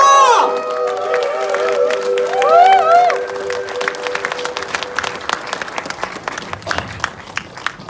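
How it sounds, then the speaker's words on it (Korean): A crowd at a Korean political party meeting cheers and shouts loudly at first, then breaks into dense applause that thins out into scattered claps. "승리를 위한 뜨거운 함성과 박수 주십시오"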